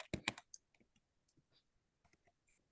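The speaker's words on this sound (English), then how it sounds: "We are typing it right now." Someone types a message on WeChat, producing a few sharp clicks at the start, then sparse, quiet taps and clicks scattered across a faint background.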